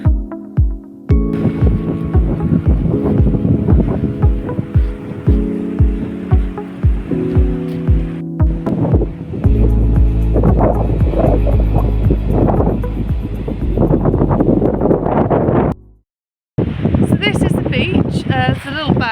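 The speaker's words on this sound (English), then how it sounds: "a little bit windy down here" Wind at a small bay beach near St Davids buffets the microphone in loud, rumbling gusts, with someone talking over it and a brief dropout near the end.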